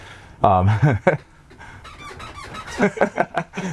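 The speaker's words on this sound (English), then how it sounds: "stop that squeaking, man" A high, squeaky creak from the floor of a travel trailer sounds loudly for about half a second, then someone talks over quieter background noise.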